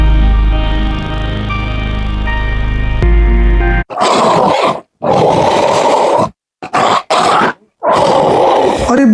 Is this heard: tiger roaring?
yes